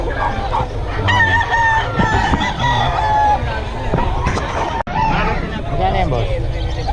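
Chickens and roosters crow and cluck loudly and repeatedly at a busy market festival expo with many poultry sellers, close by, with crowd babble and voices talking throughout.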